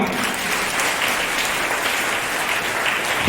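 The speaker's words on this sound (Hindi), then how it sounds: "जोरदार तालियां।" An audience at a school Ramayana play gives loud, dense applause that fills the whole moment with continuous clapping and no pauses.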